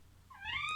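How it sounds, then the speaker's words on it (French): A house cat gives a single rising meow, fairly close and clear, swelling up out of a quiet room. "mon chat qui se fait entendre"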